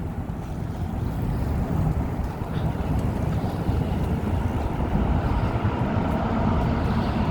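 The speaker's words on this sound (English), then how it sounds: "Now you hear the cars on Lakeshore Drive" Steady roar of car traffic on Lakeshore Drive in Chicago, heard from a nearby bridge as a continuous, loud broadband rumble with wind buffeting the microphone.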